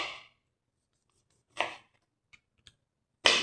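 Knife slicing onion on a board while preparing fish sinigang, a few sparse, quiet cuts separated by silence, with tiny taps between them.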